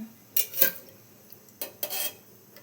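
A small metal pan is set down on a kitchen stove, giving a few short clanks and scrapes in two quick bursts, close and clear with no talk.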